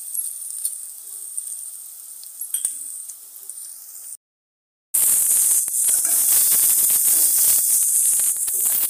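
Cumin seeds dropped into hot oil for a vegetable bhaji: after faint clinks and a brief silence, a loud, steady, hissing sizzle crackles continuously and close up.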